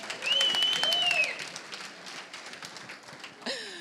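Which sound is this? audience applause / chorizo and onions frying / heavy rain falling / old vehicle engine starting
audience applause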